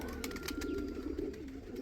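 Pigeons cooing in a loft, soft continuous low burbling calls from several birds close by, with faint scuffling and no talk.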